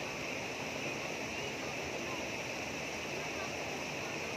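Spring water gushes steadily from a natural mountain spring, a continuous close rushing and splashing that stays even in loudness throughout, with no pauses.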